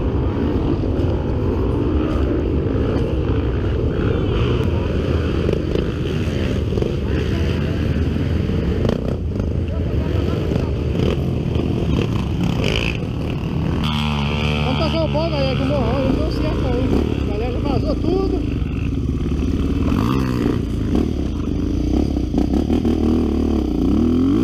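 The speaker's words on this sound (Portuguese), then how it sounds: "Esquentar o motor." Motorcycle engine warming up on a muddy hill road at an off-road trail ride, a steady loud rumble running throughout alongside voices and rough clattering.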